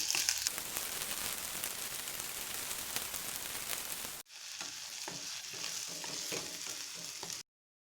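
Onion and green chilli frying in oil for a peas masala gravy, a steady dense sizzle with scattered crackles that drops out briefly midway, then resumes softer and crisper before cutting off.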